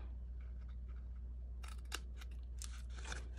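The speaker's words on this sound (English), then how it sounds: "Cut straight along the score line and cut some wedges." Scissors cut wedges along a score line in a box, giving a handful of quiet, crisp snips close by over a low background hum.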